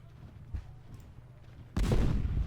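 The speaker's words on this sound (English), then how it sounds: "Right now my artillery pieces are firing upon the cav unit here." Artillery pieces fire in Ultimate General: Civil War during the Battle of Shiloh: a low, quiet rumble, then a sudden loud boom that keeps roaring to the end.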